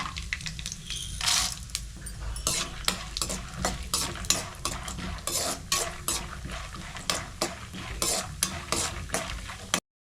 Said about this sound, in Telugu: 2 స్పూన్లు పల్లీలు, అలాగే ఒక 2 స్పూన్లు పచ్చెనపప్పు వేసుకొని బాగా అయితే ఫ్రై చేసుకోండి